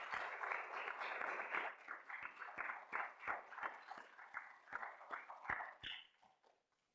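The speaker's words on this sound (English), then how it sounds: "I would like to applaud you" Audience applause at the fifth annual Sandra J. Skolnik Lecture, a dense run of clapping from many hands that thins into scattered separate claps and fades out near the end.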